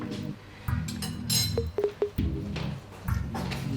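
A metal spoon is picked up in a kitchen and gives a few quick, bright clinks close by. A steady tonal background hum runs under them.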